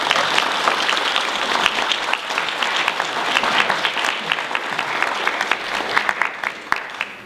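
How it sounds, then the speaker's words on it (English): A crowd at a 2017 Quincy city council at-large bilingual candidates' forum gives a loud, sustained round of applause, dense clapping holding steady throughout. "I invite everyone now to join me in a really loud round of applause to thank him for it."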